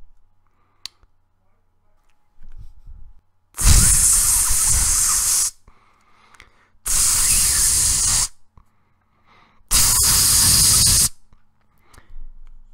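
A voice imitates a can of hairspray spraying, giving three long, loud hissing bursts of about two seconds each, separated by short pauses with faint background noise.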